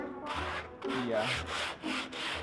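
Rhythmic rasping strokes of sandpaper on a wooden couch frame, several back-and-forth passes close up with short pauses between them.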